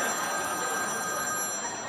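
A telephone bell rings steadily on a Filipino TV variety comedy set, faint and continuous with a sustained high tone throughout, no voices over it.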